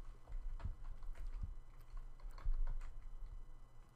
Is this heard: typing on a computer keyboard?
yes